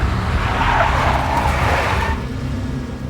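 A big black Mercedes skids in the Max Payne 2 video game, a loud, close tire screech over engine roar that eases off after about two seconds.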